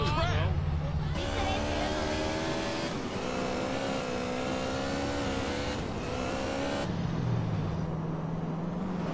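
A motorcycle engine in the video game GTA San Andreas revs and drones continuously, rising in pitch as it accelerates, with a voice talking over it.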